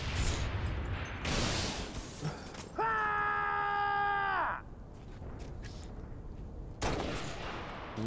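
Game gunfire from Halo: Reach comes in loud bursts of rapid shots, broken by a rising electronic whine in the middle, all close and dense.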